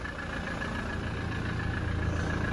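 A 2019 Toyota Hilux SR5 engine idles with the bonnet open, a steady, even low rumble close by with no ticks or other noises, holding constant throughout with no talking.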